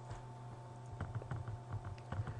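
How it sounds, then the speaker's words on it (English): Arrow keys on a computer keyboard tapped repeatedly during a 3D modelling tutorial, a quiet run of soft irregular clicks close to the microphone over a steady low hum. "I'm using my arrow keys to"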